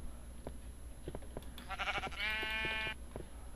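Sheep bleating in Minecraft, a single clear bleat in the middle over soft footsteps and faint background sounds, with no talk.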